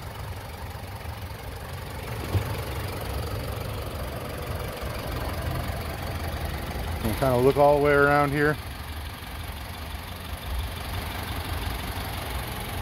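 Toyota Highlander 2.4L four-cylinder turbo engine idling quietly under the open hood, a steady low hum beneath someone talking nearby.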